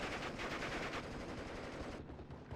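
Rapid machine gun fire from Panzergrenadiers in the Steel Division WWII strategy game, a fast continuous rattle of bursts heard faintly for about two seconds before cutting off.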